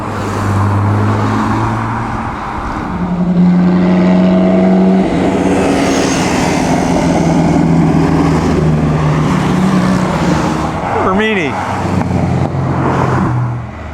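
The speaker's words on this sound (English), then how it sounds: "BMW and a little passing going on there." Classic BMW racing car passing during the 2013 Mille Miglia road race in Italy, a steady engine roar from other cars swelling and holding, with a sharp swooping tone near the end as it goes by; no talk.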